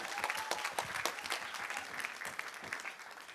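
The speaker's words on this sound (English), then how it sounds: "Let's hear a huge round of applause for Justin" Guests at a wedding reception applaud the best man, a room of clapping with distinct sharp individual claps standing out in the near field, sustained across the whole stretch.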